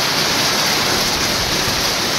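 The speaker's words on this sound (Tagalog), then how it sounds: "Grabe, lakas ng ulan." Heavy rain pours down steadily in Daet, a dense, loud, unbroken hiss with no voices over it.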